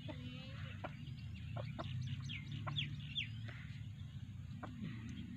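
Bought chickens clucking in a yard, several short faint calls scattered over a steady low background hum, with no clear talk.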